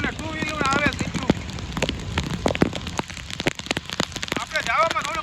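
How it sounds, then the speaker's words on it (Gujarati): Rain falling outdoors near Girnar during the monsoon, a steady broadband patter with scattered sharper drop hits, with people talking over it throughout. "વરસાદ ચાલુ જ છે ભાઈ"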